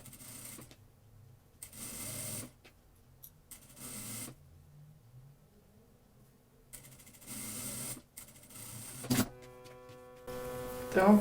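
A sewing machine stitches a fabric baby diaper with a border and appliqué patch, running in short separate bursts of whirring stitches with quiet gaps between them and a louder run at the end.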